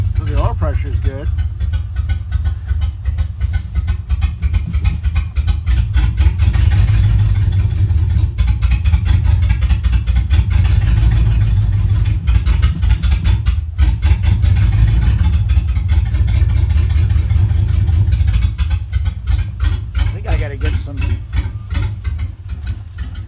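A junkyard 5.3 engine in a 1955 Buick Special turbo LS build runs with a loud, steady low rumble close by for over twenty seconds, easing slightly toward the end.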